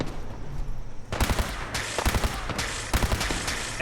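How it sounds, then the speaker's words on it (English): Gunfire in Fallout 4 Far Harbor: after a quiet start, several bursts of rapid automatic shots ring out, separated by short pauses. "Nick, what are you firing at?"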